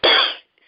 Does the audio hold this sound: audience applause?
no